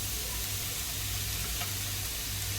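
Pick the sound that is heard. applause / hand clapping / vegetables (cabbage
vegetables (cabbage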